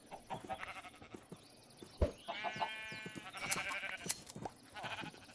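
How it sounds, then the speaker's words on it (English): Sheep bleating in Minecraft, several quavering bleats from nearby animals in quick succession, with a sharp thump partway through, with no talk. "Very healthy sheeps."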